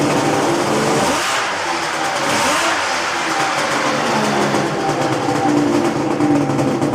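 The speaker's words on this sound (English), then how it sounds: "So here it is, guys, the 2-stroke Polaris triplet motor." A 600cc two-stroke Polaris triple engine fitted in a 4x4 racing lawn mower build, running loud and close with a steady buzzing drone and a brief rev dip near the start, no talk over it.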